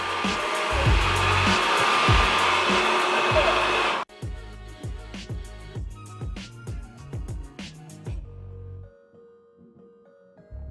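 A Proscenic M7 Pro robot vacuum cleaner runs with a loud, steady motor whine and brushing for about four seconds, then quieter motor pulses and clicks as it turns in place before going nearly silent.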